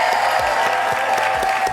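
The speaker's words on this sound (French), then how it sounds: "On peut applaudir Anne qui a livré un merveilleux match." A studio audience at a French television quiz show claps for a contestant after a face-off match: a brief, dense burst of applause, loud and close, lasting under two seconds.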